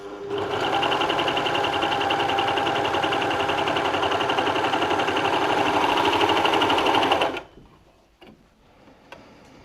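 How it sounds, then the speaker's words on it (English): A baby lock Victory overlocker gathers cotton fabric, running in a fast, even mechanical hum with rapid ticking for about seven seconds before stopping abruptly, followed by faint handling clicks. "So I'm going to grab my piece of cotton and let's gather."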